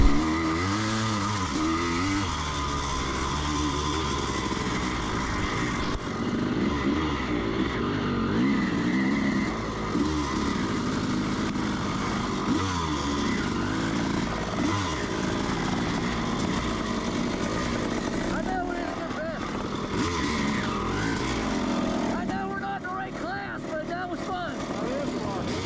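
Motocross motorcycles at a 2024 Sutton Station MX race rev and whine with rising and falling pitch, loud and continuous, while someone talks over them.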